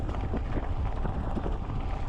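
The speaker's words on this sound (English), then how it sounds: "Very windy out here" Strong wind buffets the microphone outdoors during an electric bike ride, a loud continuous rumbling roar with no pauses.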